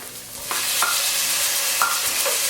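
Tomatillos hitting a hot pan, a loud continuous sizzle and crackle with a few brief sharp spits and stirring scrapes, close and without talk.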